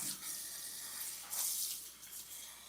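Tap water running steadily into a bowl of greens to soak them, a continuous faint hiss and splash with slight surges, no talking.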